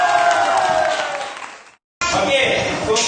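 Pupils in a year 4 Islamic studies classroom clap their hands together, a crowd-like patter mixed with voices. The sound is briefly interrupted by a short silent cut, then the clapping and chatter resume.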